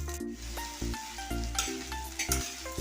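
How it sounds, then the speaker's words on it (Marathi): Onion, peanuts and poha being sautéed in a pan, a soft sizzle and stirring scrape beneath steady tonal background music with regular beats. "इथं टाकून घ्यायचे आहेत आणि फक्त आपल्याला हे 2 मिनिटं परतून घ्यायचं आहे"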